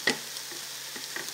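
Eggs frying in a Stanley frypan on a small Fancy Feast can stove, giving a faint, soft sizzle with a few light crackles and ticks over about a second.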